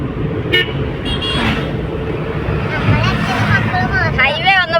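A car travels along a highway with road-construction work underway, carrying steady road and engine noise, with a few horn toots and honks rising near the end of the stretch over constant traffic rumble.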